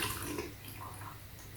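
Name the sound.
pouring water into aquarium canister filter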